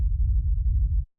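A deep, muffled techno kick rumble, distorted then low-pass filtered so the highs are gone, a continuous low drone lasting about a second before cutting off.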